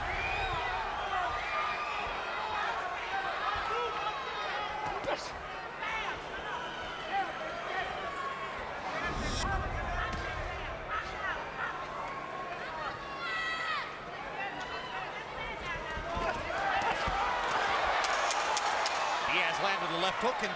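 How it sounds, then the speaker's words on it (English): Boxing arena crowd at a Marquez–Diaz fight, a dense roar of cheering and hubbub that swells and surges throughout, with commentators talking over it. "Every time Diaz lands a punch, now the crowd starts cheering him on."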